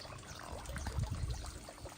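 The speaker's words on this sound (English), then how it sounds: "I'm gonna get away from the water wheel." Water pours and splashes steadily from a turning water wheel in a quiet Japanese village at dawn, a soft continuous flow heard up close at low level.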